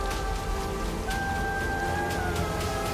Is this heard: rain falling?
yes